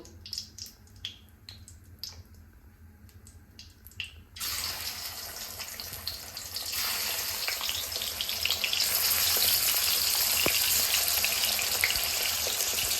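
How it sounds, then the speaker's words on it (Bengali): After a few seconds of quiet clicks and clinks, catla fish pieces hit hot oil in a wok and a broad frying sizzle starts up, swelling louder and steadier toward the end. "কড়াইয়ে আমি তেল দিয়ে দিয়েছি। এবার মাছগুলো আমি ভেজে নেব।"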